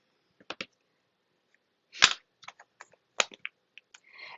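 A handheld paper punch cuts through designer series paper for a handmade card, giving a few sharp, close clacks and snaps separated by quiet gaps, with light paper rustles between.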